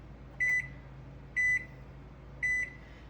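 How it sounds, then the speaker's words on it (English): A kitchen timer beeps three times in an even rhythm, short bright electronic tones spaced about a second apart over a faint low hum. "So I'm going to set my timer."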